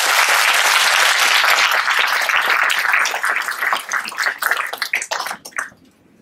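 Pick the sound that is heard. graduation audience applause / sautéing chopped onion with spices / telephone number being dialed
graduation audience applause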